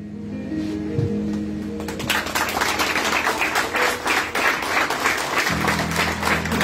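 Applause at a school graduation ceremony of Instituto Oficial San Buenaventura, a dense crowd of clapping hands rising after a couple of seconds and sustained loudly, with a voice and amplified tones heard faintly at the start and end.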